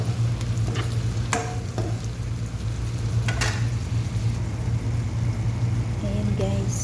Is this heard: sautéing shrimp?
yes